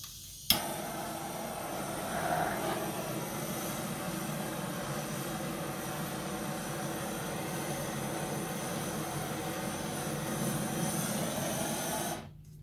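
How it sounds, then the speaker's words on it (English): A torch roars in a steady broadband rush, heating paint so silicone drops float up; a sharp ignition pop opens a continuous hiss that holds for about twelve seconds before cutting off. "So what the torch does is it warms the paint"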